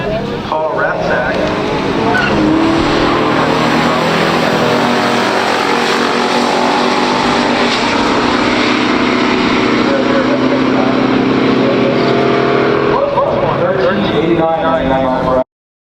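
A 1970 Camaro Z28 and a 1972 Buick GS455 Stage 1 roar in a stock drag race, their engines loud and sustained, revving hard down the strip before the sound cuts off abruptly near the end.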